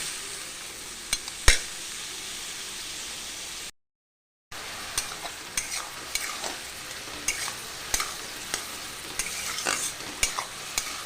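Pointed gourd frying in a pan with salt and turmeric gives a steady close sizzle broken by sharp scrapes and clicks of a stirring utensil, with one brief gap of silence partway through.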